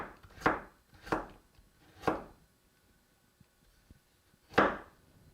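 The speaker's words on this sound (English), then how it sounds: "Then we're going to cut more thin slices." Four crisp knife strokes slice vegetables or meat into thin pieces on a cutting board, each a sharp thunk with a pause between, the last after a longer gap, close and alone with no talk.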